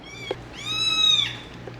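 A newborn kitten, nursing, lets out a single thin, high-pitched meow of about half a second, close and clear over quiet background with faint rustles before and after.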